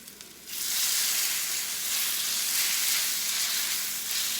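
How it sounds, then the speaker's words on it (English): Beef hits hot oil in a pan for fajitas and erupts into a loud, steady sizzle after a brief quieter start, a dense searing hiss holding close and even to the end with no talking. "Let it sear. You can hear the wonderful sear."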